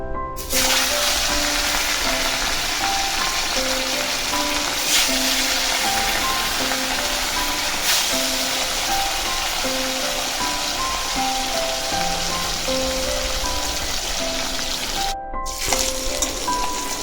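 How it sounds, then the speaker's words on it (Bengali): Fish frying in hot mustard oil in a wok, a loud continuous sizzle and crackle that runs unbroken for the whole stretch, with faint music in the background. "এবার আমি এক এক করে তেলের মধ্যে মাছগুলো ছেড়ে দেবো"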